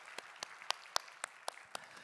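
A church congregation at an Easter youth service clapping in unison, eight evenly spaced claps at a steady rhythm, fairly faint and distant.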